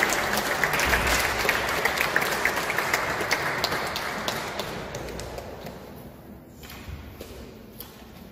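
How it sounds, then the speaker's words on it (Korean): Welcoming applause from a church congregation greets a pastor coming up to speak, a dense, steady clapping that fills the room for several seconds before gradually thinning and fading toward the end. "우리 목사님 이렇게 나오실 때 환영하는 박수와 할렐루야로 우리 목사님 모시겠습니다"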